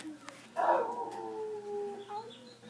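A single dog howls in one long, wavering, drawn-out note that rises and then trails off, heard close and clear with no other sound around it.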